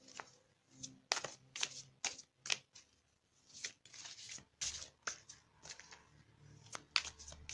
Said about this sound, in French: on va prendre une carte d'énergie de guérison pour compléter ce tirage.